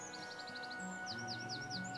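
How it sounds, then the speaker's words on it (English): Birdsong plays as an outdoor ambient effect in a tabletop role-play scene: repeated quick high chirps and a few longer sweeping calls over a steady low background hum, no talk. "enjoying the sunshine and the sound of the birds"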